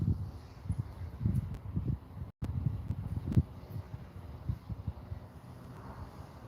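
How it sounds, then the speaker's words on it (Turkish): Steady gusty wind buffeting the microphone outdoors at a live pigeon auction, a low rumbling roar with brief surges and one short dropout. "Tabii rüzgar var arkadaşlar"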